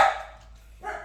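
Dogs bark indoors in two short yaps separated by a brief pause, moderately loud and close by.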